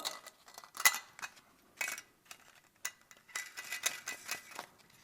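Small plastic and metal clicks and clinks while the nut is undone on a Fluidmaster Easy Fit Ultra toilet syphon, a scattered series of sharp close taps and scrapes with quiet gaps between them.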